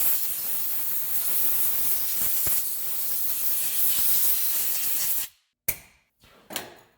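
Penetrating spray hisses from an aerosol can onto a rusty hub on a 2016 Subaru Impreza, a long steady blast for about five seconds, then stopping and followed by two short spurts, close and loud.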